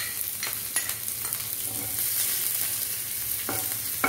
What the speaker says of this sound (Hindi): और अब ये कटी हुई मिर्च डालेंगे हम